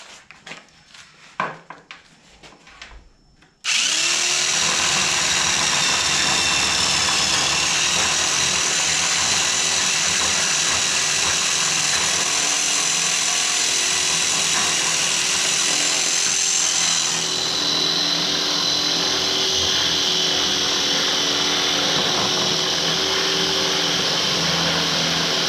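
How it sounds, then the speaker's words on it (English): A rotary tool's cutting wheel slices through melted plastic on a billet grille being fitted to a Mazda B2600i. A steady high-pitched whine runs loud and close for over twenty seconds after a short stretch of handling noise. "I have found that cutting wheel works very well"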